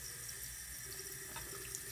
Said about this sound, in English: when you wash her, rinse her, make sure you drip the water downward